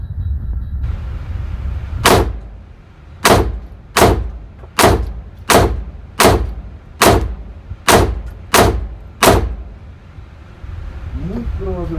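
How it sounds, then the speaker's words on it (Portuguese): Nine sharp gunshots from a Taurus TX22 .22 pistol fired at a target, spaced about a second apart, loud and close over a steady background hum. "Muito provavelmente os disparos vão ficar um pouco mais espalhados pela distância, pela velocidade."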